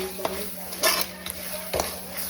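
Onions frying in a pot over a medium gas flame, a steady soft sizzle punctuated by several sharp scraping stirs, close and fairly quiet, with a person talking over the cooking.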